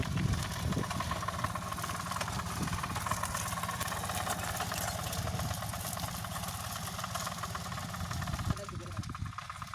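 A hand tractor engine idles with a steady, rattling mechanical drone at moderate distance among shrubland, with a person talking faintly alongside.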